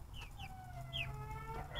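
Chickens cluck and chirp softly in the distance over a low steady rumble, several short calls scattered across the moment.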